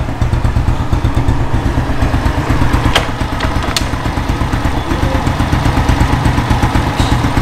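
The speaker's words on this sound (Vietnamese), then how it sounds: "Lên trước nè, cho anh em nghe cục máy nè." A Honda Dream motorcycle engine, modified with Takegawa parts, idles with a steady, even pulse, close and fairly loud, with a faint clicking now and then over the rhythmic rumble.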